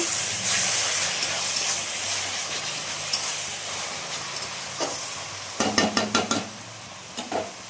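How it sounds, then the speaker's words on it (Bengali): Spice paste for chicken kasa bubbling and frying in oil, a soft continuous hiss and simmer that later gives way to a few sharp clustered spatters and stirring knocks, no voices. "এবার মশলাটা একটু ফুটতে থাকবে, তেল ছেড়ে দিলে চিকেনটা দেবো।"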